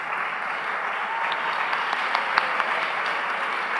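A big audience at the ASCA 2014 closing keynote gives school counselors a round of applause, steady dense clapping from many hands with a few sharper claps standing out.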